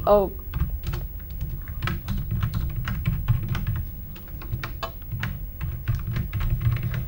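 Typing on a computer keyboard into a plain text box, rapid irregular key clicks close to the microphone, running steadily throughout beneath a low background hum.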